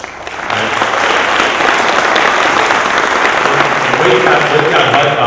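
Loud, sustained applause from the audience at a Georgia College Hall of Fame induction ceremony, breaking in after a brief pause and holding steady, with a voice faintly heard beneath it.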